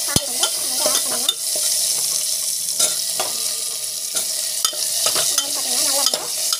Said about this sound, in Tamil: கட் பண்ணி வச்ச காய் வந்து நம்ம ஆட் பண்ணணும்